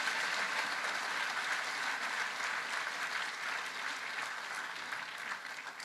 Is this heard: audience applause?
yes